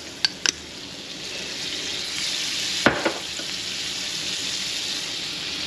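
Bread is laid into melted butter in a hot pan for a BBQ tomato sandwich, and a steady bright sizzle fills the scene. A couple of quick utensil clacks come early and a brief clatter midway.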